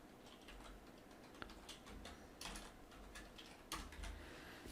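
Quiet keyboard typing close by, a short run of soft key clicks with a few sharper taps, no speech over it.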